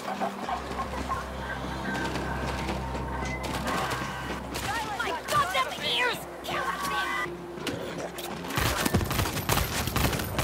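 Rapid video-game gunfire in World War Z, with dense bursts of shots over a steady low rumble and a voice talking over it, ending in louder, closer shots.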